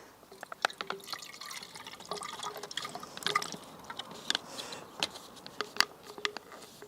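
Film developer made up from a sachet is poured and splashes into a container. Close, quiet, irregular drips and liquid patter carry on for several seconds with no voices.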